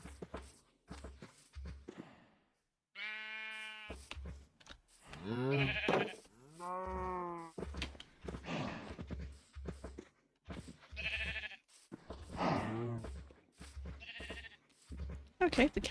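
Sheep in the Minecraft video game bleat in several short wavering calls, close and clear, with a voice talking over and between them.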